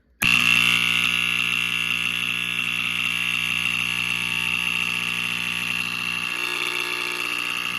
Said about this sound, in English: this was probably a series duty horn, meant to be wired in series with others